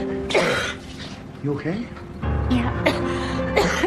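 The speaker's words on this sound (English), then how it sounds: "The cough continued to get worse" A person coughs and clears their throat in several rough bursts spread through the moment, close by, with a brief spoken question between them.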